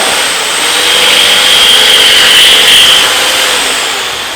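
A power saw makes a second cut into wood beside an earlier cut while building a wine rack, a loud, steady, close whine that runs unbroken throughout.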